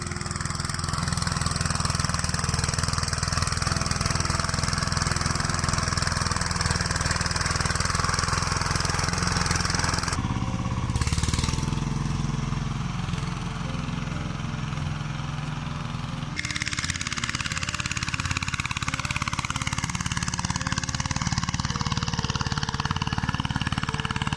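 A hand tractor engine ploughs a village field, a loud, steady knocking, chugging drone close by with a brief change in tone partway through and no talk.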